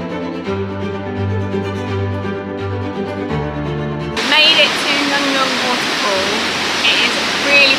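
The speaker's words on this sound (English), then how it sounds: "by far the most powerful waterfall we've been to" A powerful waterfall in Ubud, Bali roars as a loud, steady broadband rush that bursts in about halfway through, after a stretch of music.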